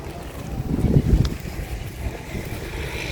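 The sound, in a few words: strong wind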